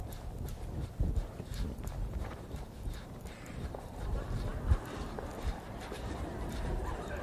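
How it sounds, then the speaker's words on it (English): Hooves of a ridden dressage horse clip-clop in a steady rhythm through an arena, moderately near, with one sharper footfall midway. "now I'm going to ride the horse when things don't go well"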